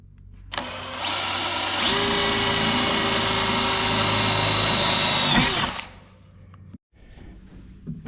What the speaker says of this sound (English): I use this drill bit to drill my holes larger